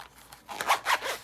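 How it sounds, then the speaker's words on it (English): A zipper on a flashlight pouch is pulled closed in two or three quick rasping strokes, close and crisp, with no speech over it. "zip it up"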